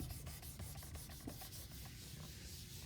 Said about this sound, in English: The next person is going to scrub the table.